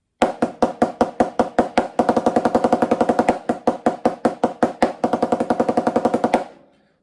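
Snare drum practice of a 15-stroke roll exercise: crisp, close stick strokes in fast, even bursts, with rolled groups and short gaps, played steadily for several seconds before stopping.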